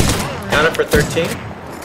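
Rapid bursts of gunfire in an Apex Legends match, loud and close with sharp overlapping cracks, under a player's voice calling out.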